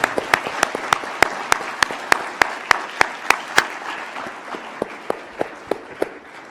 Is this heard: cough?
no